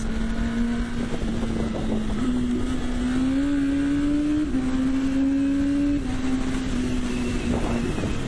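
A naked motorcycle's engine hums steadily with its pitch rising and dropping between gears, buried in heavy, continuous wind roar.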